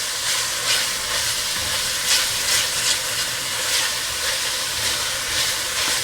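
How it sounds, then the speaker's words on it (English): Onions and garlic sautéing in olive oil for a ham stew, a loud, steady hiss with gently pulsing bursts throughout, no voices. "You're going to let that kind of hang out in the olive oil until your onions start getting a little translucent"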